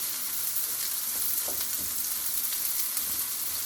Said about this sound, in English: I'm going to add my garlic too.